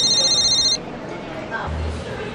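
A cell phone rings loudly with a bright electronic tone for under a second, then cuts off, leaving a quiet room hum.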